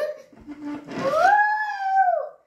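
A dog howls nearby in one long, rising and wavering tone that trails off at the end. Softer yips and whimpers come just before it.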